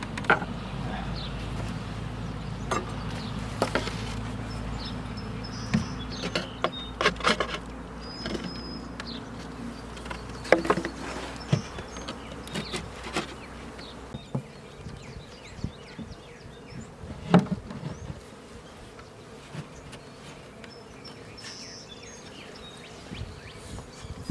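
Honey bees buzz steadily around an open hive during a May queen-marking session, a dense close hum with individual bees zipping past the microphone, and faint handling noises underneath.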